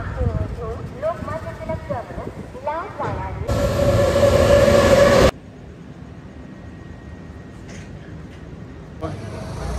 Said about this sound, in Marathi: गाडी आलेली आमची.